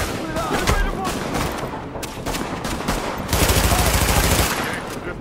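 Bursts of automatic gunfire in Tom Clancy's The Division video game, overlapping volleys and a heavy sustained burst late on, loud and close, with a voice talking over the shooting.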